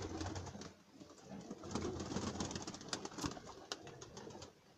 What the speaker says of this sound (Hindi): ये शर्मीला कबूतर है जी